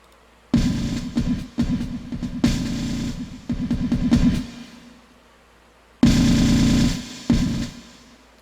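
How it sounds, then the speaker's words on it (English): Two programmed marching toms in FL Studio, tuned to different notes, play tense rapid rolls and hits in two bursts separated by a pause, loud and close with no voices. "I have a variation, which is 2 toms, and they're using different notes"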